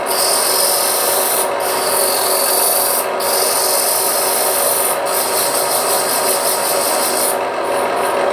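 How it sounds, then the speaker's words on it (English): Sandpaper rasps against a spinning wooden hollow vessel on a lathe, a loud, close, continuous scratchy rubbing with a few brief dips as the pressure shifts. "since this is going to be seen from the outside, might as well sand it while I can"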